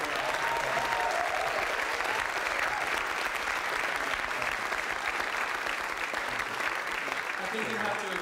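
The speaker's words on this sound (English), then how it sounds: "let's continue that applause for Antonio and I as well" Continuous crowd clapping at an International Jazz Day big band workshop, many hands applauding steadily for several seconds, with faint voices and a few tonal traces mixed underneath.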